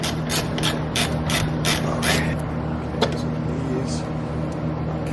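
A hand ratchet clicks in quick repeated bursts while tightening a bolt on an aluminum skid plate under a Mazdaspeed 3. The clicks are close and loud over a steady low hum, then stop in the second half.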